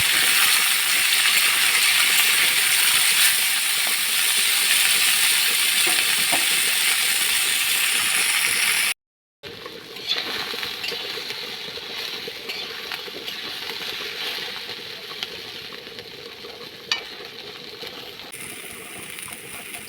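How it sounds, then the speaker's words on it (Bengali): Malabar spinach fruits frying in a pan, a broad, steady sizzle and hiss that briefly cuts out, then returns softer with occasional light clinks of stirring, close and without speech. "নেড়ে চেড়ে ভেজে নেব"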